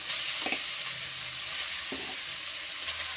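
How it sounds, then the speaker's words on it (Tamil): Cooked pressure-cooker rice tipped into a pan and stirred for lemon rice, giving a steady close sizzle with a few soft scraping stirs and spoon knocks, no talking. "இப்போ சாப்பாட்டை தூக்கி அதில் போட்டுருவோம்"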